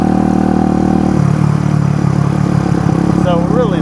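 A small vintage Honda CB125 cafe racer motorcycle, restored from a barn find, idles with a steady low mechanical hum that continues throughout.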